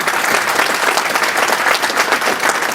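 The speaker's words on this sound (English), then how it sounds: "So one more round of applause for the startups and for Joe tonight." A crowd at a tech meetup applauds loudly and continuously, dense clapping filling the whole moment without pause.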